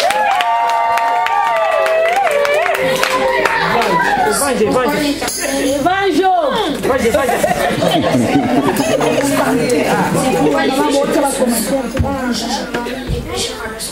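A church congregation claps and cheers at a Sunday school performance, sustained applause mixed with crowd chatter and singing voices, loud and close throughout.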